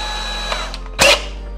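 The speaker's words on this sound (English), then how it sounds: "the next step here is kind of to drill towards these holes as close as you can really cut it" A power drill whirs briefly in one short, loud burst, drilling a small hole in a plastic X-Wing Miniatures TIE model, after a quiet stretch of faint ticking.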